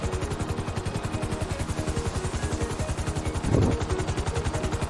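Rapid, steady automatic gunfire rattles continuously in a Grand Theft Auto V firefight, a low pulsing rhythm with a brief louder burst near the end.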